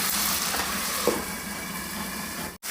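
Chicken meat sizzles in a wok as it is cooked down with spices for ghugni, a continuous hissing fry that breaks off abruptly near the end.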